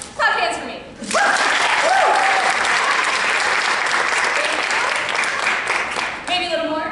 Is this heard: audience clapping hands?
yes